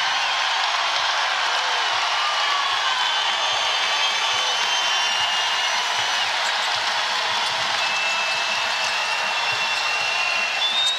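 During an NCAA women's basketball game, Iowa against Iowa State, the arena crowd keeps up a sustained, loud cheering roar. Faint whistle-like tones drift through the broad, even noise.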